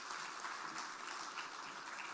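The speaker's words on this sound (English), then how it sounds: "give a huge round of applause for our Honorable Founder President" An audience at a university conference inauguration applauds continuously, a dense, even wash of clapping from many hands that holds steady throughout without voices on top.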